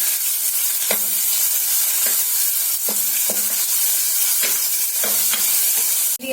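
Tuna curry with tamarind stirred in a pan: a continuous sizzling hiss with regular scraping strokes of a spoon about every second.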